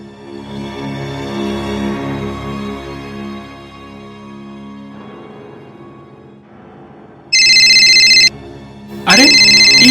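An incoming-call ringtone sounds in two loud electronic bursts with a short gap between them, following a stretch of quieter background music.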